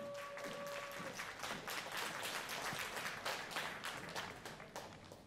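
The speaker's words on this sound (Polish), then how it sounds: "Gorące brawa dla zespołu Kameleon." Warm audience applause for the women's vocal group Kameleon at the 2018 Rytm festival in Gliwice, a dense, steady clatter of many hands filling the whole stretch with no talk over it.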